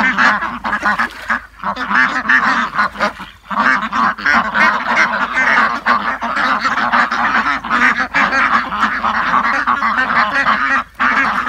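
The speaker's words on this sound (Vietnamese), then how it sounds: "Vịt cứ đi theo người, vịt đói rồi." A crowd of hungry ducks quacks loudly and constantly up close at a rural fish pond, honking calls overlapping in a dense, unbroken chorus with no talking.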